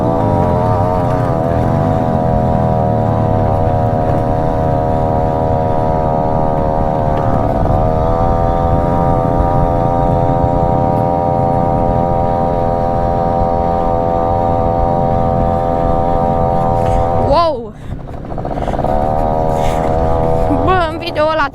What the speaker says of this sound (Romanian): A trecut cu motorul.